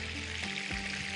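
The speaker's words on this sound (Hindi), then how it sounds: "मछली के पीसेस को करते हैं फ्राई।" Fish pieces fry in achaari masala, a steady broadband sizzle with bubbling that runs throughout, close and fairly even in level.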